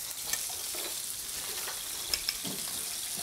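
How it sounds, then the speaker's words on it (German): Butter slowly melting in a pan gives a soft, quiet, steady sizzle, with a few faint clicks and a light stir along the way. No one speaks. "für das müssen wir jetzt zuerst einmal die Butter schön langsam lösen"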